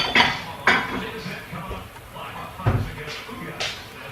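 Ceramic bowls knocked and clinked together while one is pulled from a stack of dishes in a home kitchen, a few separate clatters and thuds spread across a few seconds, close by.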